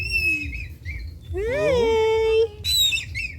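A bird gives a loud, drawn-out wailing call with a rising and falling pitch, close by, as a person briefly calls out a greeting.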